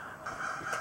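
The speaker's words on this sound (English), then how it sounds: "Crows." Crows cawing outside a cabin in the woods, a brief harsh call or two at moderate distance against quiet outdoor air.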